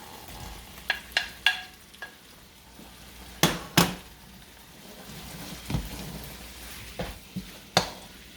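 Shrimp going back into a pan of curry sauce for stir-frying: a steady sizzle runs throughout, broken by several sharp metallic clatters of a utensil against the pan at irregular intervals.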